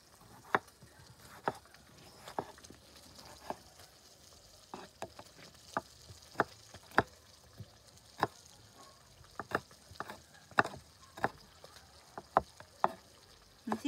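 Chorizo and sausage frying in a pan in their own fat, a quiet crackle with scattered sharp pops spaced irregularly about a second apart.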